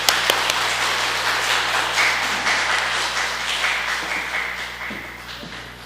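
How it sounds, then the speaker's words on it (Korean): A church congregation at a Sunday afternoon service gives a warm welcoming applause, dense clapping close and loud at first and then gradually tapering off. "우리 권사님 모실 때에 환영의 박수 부탁드립니다"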